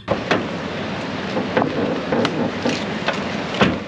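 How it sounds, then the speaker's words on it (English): Steady heavy rain drums on the roof of an old van parked near a UK beach in winter, a dense continuous patter broken by occasional louder thumps of drops, with no voices. "But the rain is coming down again."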